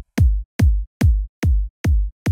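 Distorted hard trance kick drum programmed in FL Studio without EQ, six heavy booming thumps in an even fast pulse with a sharp click attack and short decay, loud and alone.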